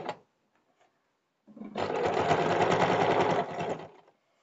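A sewing machine stitches the belt onto a box-pleated short skirt, a sustained loud mechanical whir of about two seconds after a brief knock and near silence.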